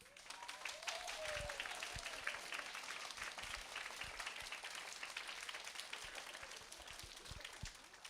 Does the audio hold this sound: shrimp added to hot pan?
no